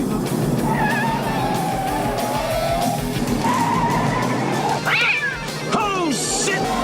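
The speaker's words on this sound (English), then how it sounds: "We get a great car chase scene." Tires screech in a film car chase from Stephen King's Sleepwalkers, with rising and falling squeals near the end over a dense bed of engine noise, music and voices.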